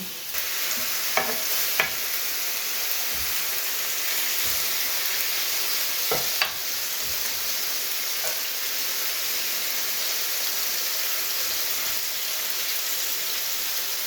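Frozen onion sizzles steadily in a hot pan, a constant hiss like light rain, with a few faint utensil taps and scrapes and no talk.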